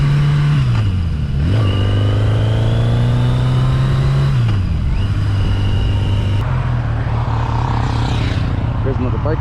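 A warmed-up Yamaha XJ650 motorcycle engine runs loud and close, its steady hum rising and falling through several revs, with a brief dip and a shift in tone near the end.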